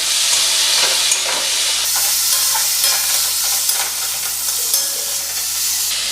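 Ground spices, including cumin powder, sauté in hot oil for a rohu fish curry with potato and cauliflower, making a loud continuous hiss and sizzle with light stirring scrapes.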